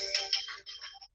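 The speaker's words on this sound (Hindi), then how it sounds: "ये फोन आया किसी का" A mobile phone rings during a physics class, a bright electronic ringtone with short repeating tones that stop and restart, fairly clear and alone.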